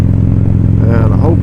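A motorcycle fitted with Fuel Moto jackpot headers in place of the stock headers, its exhaust rumbling loud and close in a steady low drone with a slight rise in pitch near the end, while someone talks over it.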